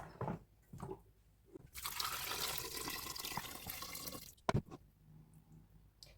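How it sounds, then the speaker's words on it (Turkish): Hot water poured from a kettle into a cooking pot to cover meat for Turkish boiled stew, a steady loud gush lasting a few seconds, then a brief clatter and quiet. "Şimdi bunun boyunu geçecek şekilde sıcak su koyacağız"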